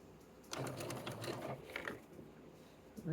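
A sewing machine back stitching around a piece for a Simplicity 1446 pattern: a close, quiet burst of rapid mechanical stitching lasting over a second, then slowing and stopping, with no talk.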